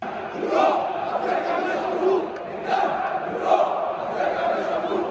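Al Ahly supporters chant in a stadium during a match against Al Hilal of Sudan, a dense, swelling crowd roar rising and falling in rhythmic waves at a distance, with a commentator's voice faintly over it.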